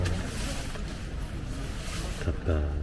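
Wind gusts across a campsite at Cheonwangsan family campground, a steady broadband rushing that fills the whole moment, with people's voices mixed in beneath it.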